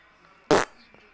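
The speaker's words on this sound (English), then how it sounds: "Was that fart and gunshots?" A single short, loud fart sound effect bursts out in a video game, then quiet background.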